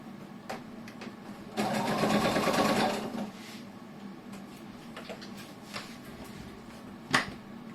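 A sewing machine runs in one fast burst of about a second and a half while stitching a fabric shoulder bag, set among quieter handling clicks and taps, with one sharp knock near the end.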